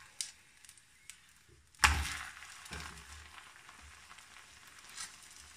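Liver pancake batter frying in a hot pan over medium-high heat, with a sudden loud sizzle as it hits the oil, then a steady soft crackle that continues alone.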